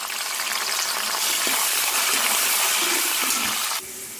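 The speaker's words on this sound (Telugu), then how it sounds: "ఇప్పుడు ఇందులో కొంచెం కరివేపాకు ఎండుమిర్చి వేసి వేయించుకోవాలి" Curry leaves and dried red chilies sizzling in hot oil, a loud, dense, continuous crackling hiss close up that drops off sharply near the end.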